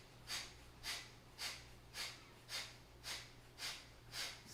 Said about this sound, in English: Forceful exhales.